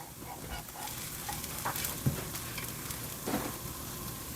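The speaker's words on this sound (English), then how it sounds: "let's flip these crisp" Bacon parmesan cheese crisps sizzle steadily in a pan over medium-low heat, with a couple of soft scraping taps as they are flipped partway through.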